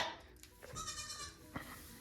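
A mother goat bleats in one drawn-out, wavering cry, close and fairly loud over a barnyard backdrop.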